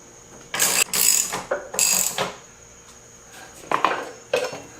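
A lift raises a Kawasaki Versys 1000 motorcycle in a workshop, loud bursts of mechanical ratcheting and clanking that start and stop in uneven spurts, close by.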